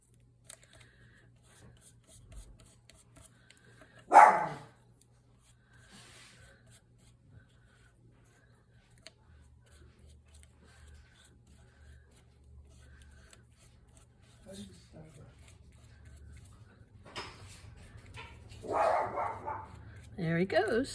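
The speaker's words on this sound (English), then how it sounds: "Sorry about my poochie barking." A pet dog lets out one loud, close bark early on, then it is quiet apart from faint paper rubbing. A person talks near the end.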